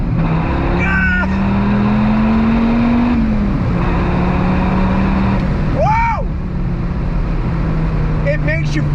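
A 2006 Dodge Viper SRT10 engine under full throttle, a loud, steady low drone that climbs slightly and then eases, with excited voices calling out over it.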